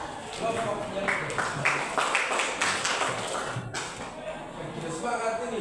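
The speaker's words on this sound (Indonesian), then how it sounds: "Kita tepuk tangan untuk kelompok yang itu." A classroom audience gives a short, rhythmic round of clapping for a student group. Several evenly spaced bursts of claps mix with voices talking in the room.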